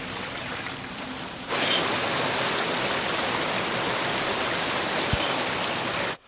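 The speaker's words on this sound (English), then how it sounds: "Now the water's flowing" Water from a partially drained lake rushes down a stream, a loud, close, unbroken roar that swells after a moment and then cuts off abruptly.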